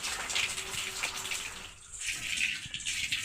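Water runs steadily from a tap as vegetables are washed on a rainy day, a continuous close splashing hiss with a brief lull midway.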